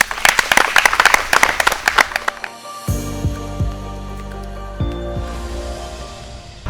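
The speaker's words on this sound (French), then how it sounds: "je voudrais vous applaudir tous, l'équipe de formation et les éco-gardes pour les efforts fournis" Applause for a training team and eco-guards, a burst of loud, dense clapping from a group that stops abruptly after a couple of seconds, followed by low droning tones and faint background noise.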